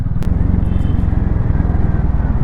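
A 2024 Hero Mavrick 440 cruiser motorcycle is ridden, its engine giving a loud, close, evenly pulsing low thump with a brief sharp knock near the start.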